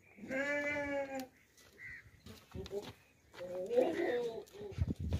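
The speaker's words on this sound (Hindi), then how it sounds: "दूध के लिए बहुत ही ज़बरदस्त बकरी है" Goats bleat at a livestock sale where dairy goats are on offer, with several harmonic calls near and fairly loud, one long bleat at the start and more mixed with talk later.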